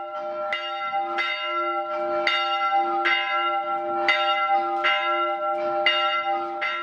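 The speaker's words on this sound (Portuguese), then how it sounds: "Também o sino ainda é o mesmo comprado pela comunidade por volta de 1930." A church bell from around 1930 at the São João Bosco community church in Luiz Alves, Brazil, rings steadily, about eight clear strikes with long ringing tones that overlap, loud and close, with no voices.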